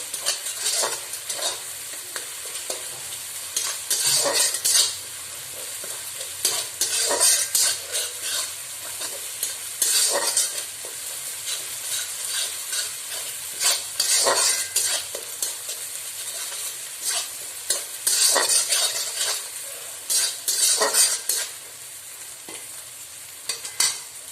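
Cumin and dried red chilli paste fry in a pan while a spoon repeatedly scrapes and stirs, giving bursts of sizzling between quieter moments, close and alone without talk.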